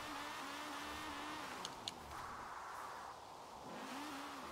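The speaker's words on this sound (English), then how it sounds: "I'm so sorry you had to endure the noise of this engine." A power drift build car engine in the video game Forza Horizon 4, droning and revving, the pitch rising and falling steadily, fairly faint, with a couple of brief clicks.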